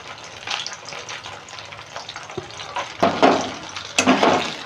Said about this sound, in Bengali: আমি পনির একটুখানি ভেজেই নিই, কাঁচার থেকে একটু ভেজে নিলে আমার ভালো লাগে।